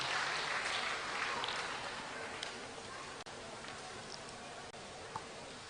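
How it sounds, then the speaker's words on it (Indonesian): Audience applause at a national Christmas celebration, a broad wash of clapping that starts full and gradually thins and fades, moderately distant, with faint voices mixed in. "Sekali lagi kita berikan tepuk tangan yang paling meriah untuk kemuliaan nama Tuhan."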